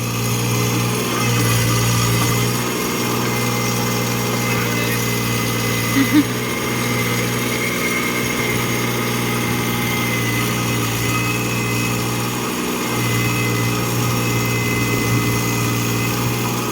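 A 30 to 50 horsepower tractor fitted with a backhoe attachment runs steadily at idle with a low throbbing drone that swells and eases periodically, close and loud, with no talking.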